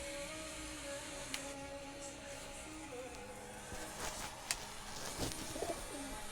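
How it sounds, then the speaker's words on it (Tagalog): Two pigeons coo outdoors in soft, repeated low calls over steady background hiss, with a few chirps and clicks as the birds perch and feed nearby. "Sa dalawang kalapati nandun, oh."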